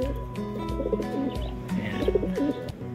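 Soft, low coos from an injured racing pigeon repeat in a rolling rhythm, close by, with a few lighter bird chirps in the background.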